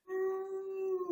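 A person's voice imitates a wolf howl, one long, steady, drawn-out tone lasting about a second, sustained at close range and then trailing off into a brief waver.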